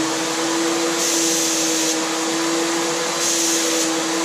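A Graco 9.5 Finish Pro HVLP paint sprayer runs steadily, a loud, close, constant turbine whine and airy rush with brief surges in hiss, heard alone.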